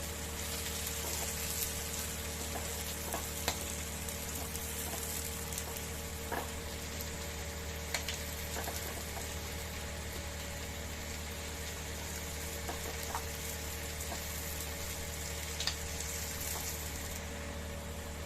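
Prawns fry in hot oil in a home kitchen, a faint steady sizzle dotted with scattered small pops and crackles over a constant low hum, with no talking.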